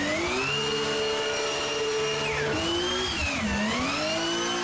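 Loud, continuous transmission whine from a car in a racing game's add-on car pack, a gear-like tone sliding up and dipping as the car speeds and shifts.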